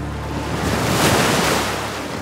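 Open-sea waves off Nan Madol: a loud, continuous rush of surf and wind that swells to a peak midway and then eases, with no speech.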